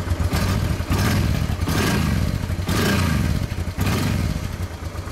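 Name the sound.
motorcycle engine purring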